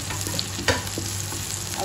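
Onions sizzle steadily in a hot pan for Filipino white adobo, with a brief louder crackle as they are stirred and a continuous frying hiss throughout.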